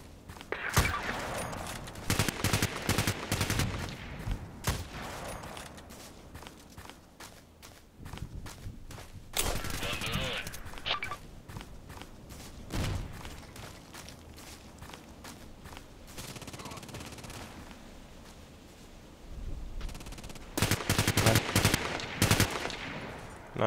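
Gunfire in the online shooter Contract Wars on the Old Sawmill map: repeated bursts of rapid automatic shots and single cracks, loud and close, spread through the stretch with quieter footsteps and ambient game noise between volleys.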